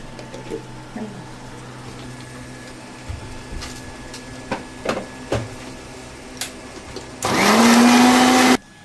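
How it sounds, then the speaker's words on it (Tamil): Mixer grinder whirring loudly at full speed while grinding batter for a couple of seconds near the end, after some quiet clicks and handling sounds. "இப்போ வந்து நம்ம மிக்ஸியில் போட்டு நல்லா அரைச்சிடலாம்."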